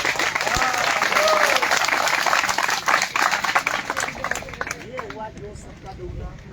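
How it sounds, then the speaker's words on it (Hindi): An audience at a gathering claps in sustained, dense applause that swells and then thins toward the end, with voices talking over it. "ताली बजा दीजिए"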